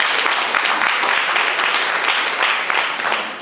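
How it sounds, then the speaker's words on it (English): An audience at the State of Black America address in Memphis gives a round of applause, loud, close and continuous clapping from many hands that tapers slightly near the end. "If you would give them another round of applause."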